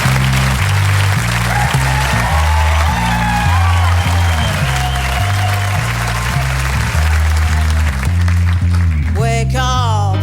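Studio audience applause on a television comedy panel show, steady loud clapping throughout with music underneath.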